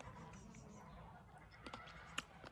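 Chickens and ducks making noise outdoors, faint honking calls and clucks at a distance, with a sharper squawk near the end over low background rumble.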